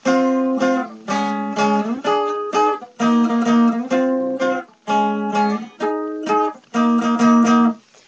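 An electric guitar plays the opening riff of a song in power chords, loud and close, with rhythmic bursts of strummed chords separated by brief stops and slides, repeating in a steady pattern.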